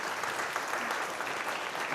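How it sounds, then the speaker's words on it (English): Audience at a data science seminar on health data clapping together in steady, dense applause that holds at an even level for the whole stretch, filling the room without any voices standing out. "let's give a big hand of applause"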